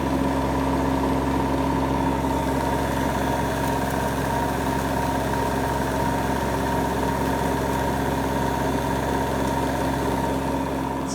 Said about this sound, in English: It is a wonderfully silent motor.